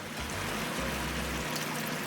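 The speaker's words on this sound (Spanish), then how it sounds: "Yo le voy a tener que agregar otra taza más de agua, taza medidora" Water poured from a measuring cup into a pot of chickpea stew, a steady splashing trickle heard close up for about two seconds with no talking.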